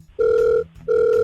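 A telephone ring tone sounds while a phone call is being placed. Two loud, steady electronic tones of equal length are separated by a short gap, close and clear with no talking.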